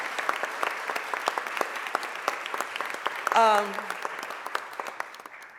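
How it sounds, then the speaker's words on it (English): Audience applause at a mayor's press conference, scattered close claps rising over a room murmur, with a brief voice cutting in midway. "Can we give them all a super huge round of applause?"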